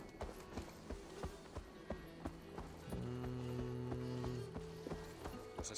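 Horse hooves clip-clop at a steady walking rhythm in the video game Assassin's Creed Valhalla, moderately close, with sustained low tonal music or drones swelling midway and a faint creak.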